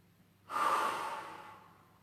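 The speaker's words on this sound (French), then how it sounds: "on bloque sa respiration, on ouvre la bouche et on souffle" After a held breath, a person forcefully blows air out through an open mouth in one long, close, breathy exhale that fades gradually, with no speech.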